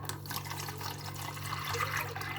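Two litres of water pour into a cooking pot in a steady, continuous rush of splashing that stays fairly loud throughout, with no voices.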